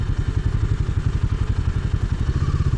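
Royal Enfield Himalayan 450 motorcycle ridden off-road in extreme conditions, its engine thumping in a steady, loud, pulsing rhythm with some clatter from the terrain.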